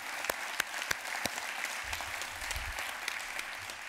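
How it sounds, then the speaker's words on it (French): Audience applause at a French book-prize ceremony for a biography award, a steady wash of many hands clapping from a crowd, fairly even throughout with a few sharper claps near the front. "que vraiment on peut applaudir parce qu'elle le mérite"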